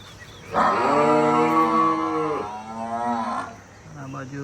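Kankrej cattle and buffaloes on a Banaskantha farm, with one loud, close, drawn-out moo lasting a few seconds, followed by a faint murmur of talk.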